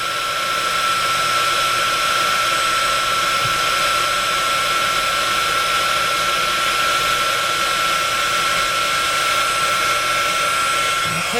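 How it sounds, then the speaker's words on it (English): A heat gun blows steadily on foil designer acetate for a card-craft lantern, a loud, continuous whooshing fan roar with a faint high whine, close by and unbroken throughout. "we're going to just go ahead and take it to the heat gun"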